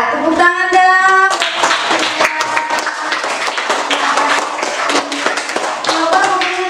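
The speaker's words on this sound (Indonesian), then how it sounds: "oh ya, tepuk tangan dong." Children in an elementary school classroom clap their hands together, a lively, close patter of overlapping claps with a few brighter voice-like tones at the start and again near the end.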